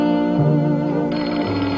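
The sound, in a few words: two extension telephones ringing together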